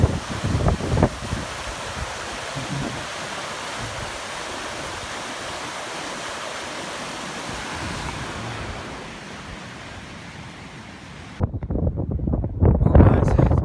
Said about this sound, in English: That's a nice waterfall too, isn't it?